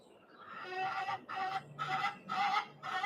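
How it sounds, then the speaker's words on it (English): A hen squawks loudly and close in four or five harsh bursts, each about half a second long and separated by brief pauses. "for you guys to be the first to hear this freaking chicken here, this loudmouth"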